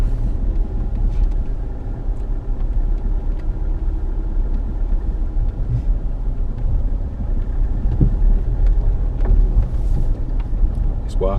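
A car labours off-road on Salisbury Plain in front wheel drive, its engine a deep, continuous rumble heard from inside the cabin, with bumps and rattles over rough ground.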